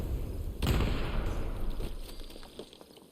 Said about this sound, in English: Let's see if another explosion hits.